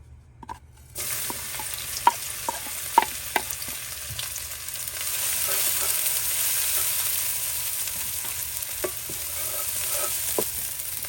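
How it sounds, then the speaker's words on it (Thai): Pounded chili and garlic hit a hot pan for a Thai beef basil stir-fry, giving a steady close sizzle with scattered sharp pops and stirring clatters that build slightly and hold on without any talk. "ต่อไปเราใส่ พริกและกระเทียมนะครับ ที่เราตำไว้แล้วนะครับ"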